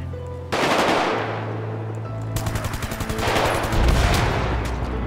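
Zombie-survival shooter gameplay in GTA 5 with close, loud gunfire: single heavy shots, then a rapid automatic burst of evenly spaced rounds, followed by more roaring fire.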